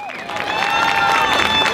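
Crowd applause and cheering at the Western Fair for a St. Thomas band, a steady wash of clapping with voices mixed in, sustained and fairly loud throughout.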